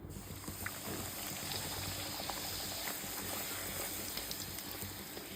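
Puris frying in hot oil, a steady close sizzle and bubbling with scattered small pops, continuous throughout.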